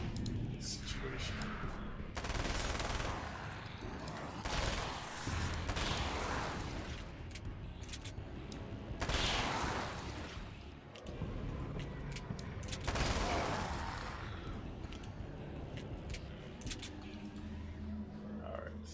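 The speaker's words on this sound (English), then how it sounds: "Seems like a good SMG situation." Submachine gun fire in Alan Wake's American Nightmare, loud repeated bursts of rapid shots with booming blasts between them, continuing throughout amid game noise.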